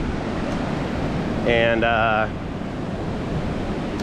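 Surf of the Andaman Sea rolls steadily onto Kamala Beach in Phuket, a continuous broad wash of breaking water with wind, while a voice speaks briefly midway.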